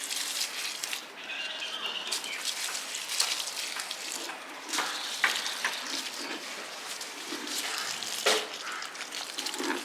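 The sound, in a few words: watering potted plants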